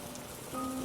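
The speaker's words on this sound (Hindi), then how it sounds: "बारिश रुकने का नाम नहीं ले रही थी।" Heavy rain pouring down at night, a dense, steady hiss of drops on surfaces, with faint sustained tones drifting underneath, like a horror-story soundscape.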